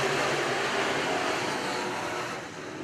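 Midwest Modified race cars roar together at the green flag on a dirt oval, a dense, loud engine drone holding steady and easing slightly toward the end.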